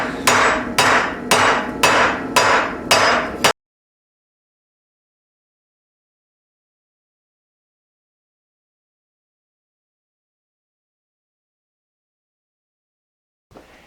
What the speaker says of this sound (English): Hammering definitely by far and away had a much bigger impact on changing the metal than the vise did.